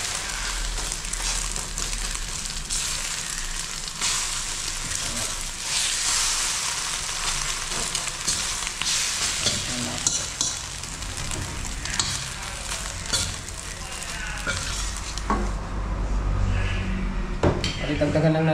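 Sinangag, Filipino fried rice, sizzles in oil as a spatula scrapes and clinks against the pan, steady and close, with pot and utensil clatter throughout and faint talk at moments.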